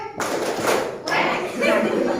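A group joins in a 'tepuk bebek' duck-clap routine at the Az-Zahra reading corner, giving two loud, dense bursts of clapping with voices calling out together.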